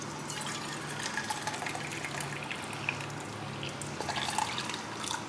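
Hot water is poured for strawberry gelatin jello shots, a short, close trickle with scattered drips and splashes over a few seconds, no one talking.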